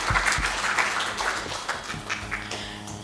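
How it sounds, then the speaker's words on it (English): Brief burst of crowd applause at a programme event after a speaker's remarks, dense scattered clapping that stays fairly loud throughout. "And another hand clap for Dr. Carol."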